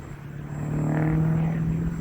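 Hobbyzone Aeroscout S RC plane flying in strong wind, its propeller giving a steady droning buzz that swells slightly midway, with wind rumble underneath and no talking.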